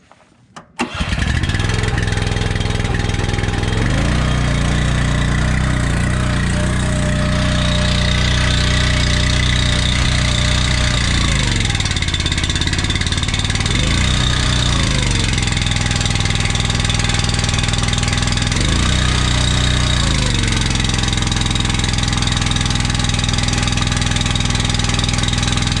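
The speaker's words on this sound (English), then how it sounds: "We'll fire the motor up." A Honda 390 gasoline engine on a 24 or 28 ton Eastonmade log splitter with a Barnes concentric pump starts and runs loud and close, a steady throbbing drone that dips and recovers several times under load, with no voices.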